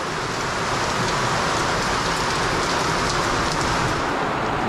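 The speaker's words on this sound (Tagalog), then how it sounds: "Grabe ang ulan din dito sa loob." Heavy rain pours steadily indoors, a dense, loud continuous hiss with water dripping through a leaking roof inside a house, no voices over it.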